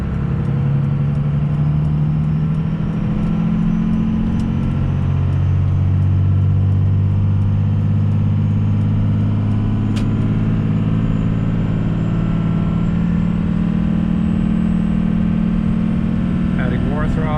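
A 24-valve Cummins diesel truck with a 47RE automatic transmission drives at steady light throttle, its engine droning loud and constant with a slowly shifting pitch, and a voice talks over it briefly.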